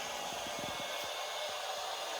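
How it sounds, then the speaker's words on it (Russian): A hair dryer runs at full speed, a steady, even broadband whoosh with a high whine that holds constant for the whole stretch, close and fairly quiet, with faint low thumps underneath and no one speaking. "что это за фен? То есть он сейчас на полной скорости"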